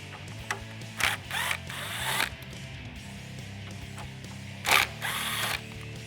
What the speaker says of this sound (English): using my T15 Torx socket, I'm gonna remove the 2 screws that secure the hood latch lever extension onto the hood lever